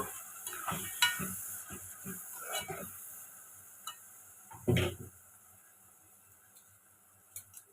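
Ground masala paste for vegetable pulao frying in a pan: a low continuous sizzle with a few light stirring scrapes and one louder clunk of the spoon, near and fairly quiet.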